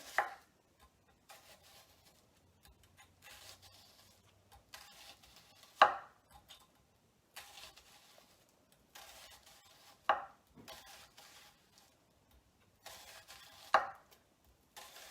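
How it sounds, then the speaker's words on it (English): A knife slices into an onion on a cutting board for grilled vegetable quesadillas, with four spaced, crisp chops a few seconds apart and quieter small cuts and handling in between, close and fairly soft, no talking. "first, we're just going to cut some slices into our onion"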